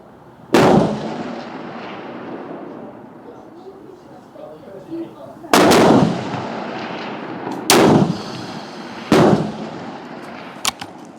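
Four sharp, loud reports from a Swiss Martini Jagdstutzer rifle chambered in GP11, fired at a 300 m range, each a heavy boom with a rolling tail, spaced irregularly across the span.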